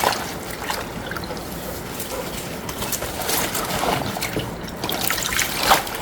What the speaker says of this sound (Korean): 배추를 소금물에 푹 적셔요.